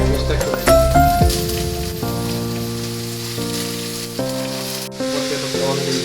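Vegetables and corn sizzle in a pan while being fried for homemade noodles, a steady crackling hiss close by, with music playing underneath and occasional stirring.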